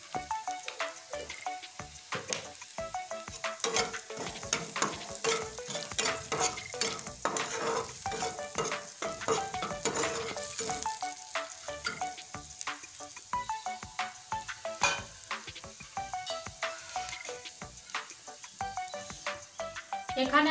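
Onions browned with salt sizzle and crackle in a hot pan, with frequent scraping stirs of a spatula over a steady, close frying hiss.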